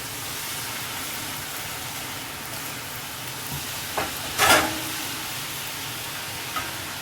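Diamond-cut wheat biscuit dough pieces deep-fry in oil, giving a steady, even hiss with one sharp bubbling burst midway and a faint clink near the end.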